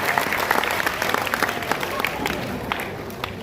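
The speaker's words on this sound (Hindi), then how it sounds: "एक बार बड़ी तालियां बजाइए" Audience applause at a children's poetry gathering (kavi sammelan), a steady wash of many hands clapping at moderate level with some crowd noise, continuing evenly for the whole stretch.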